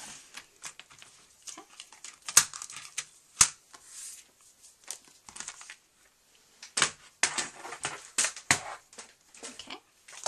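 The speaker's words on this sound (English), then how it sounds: "And cut off what I don't want." Paper cut for a journal with a craft cutter, giving a quick, irregular run of crisp snips and rustles, close and quiet, with short pauses between bursts.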